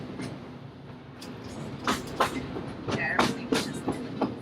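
Disneyland Railroad train rolling along the rails near the New Orleans Square station, with soft rhythmic clicks and clacks over a steady low rumble, fairly quiet.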